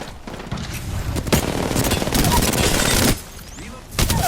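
Dense, close gunfire from the battle royale game Apex Legends comes in sustained rapid bursts with heavy impacts, breaks off briefly, then resumes, with some game noise underneath.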